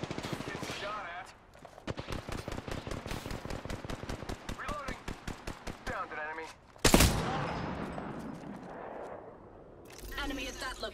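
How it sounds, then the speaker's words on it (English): Rapid automatic gunfire rattles in long rhythmic bursts during an Apex Legends match, followed by a heavier blast and further chatter, with a voice talking over the shooting. "Getting shot at."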